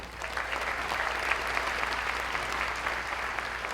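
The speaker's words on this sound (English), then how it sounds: "I'm going to ask you to applaud for each institution" A seated audience at a Seniors Got Talent show in Chattanooga applauds steadily for Chattanooga State, a dense, even wash of many hands clapping throughout with no talk over it.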